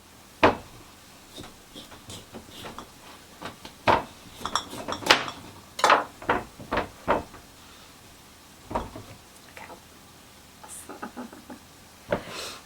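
Knife chopping through squash on a cutting board in a homestead kitchen, a run of sharp separate cuts and knocks spaced irregularly, some clustered quickly together, fairly quiet with no talk.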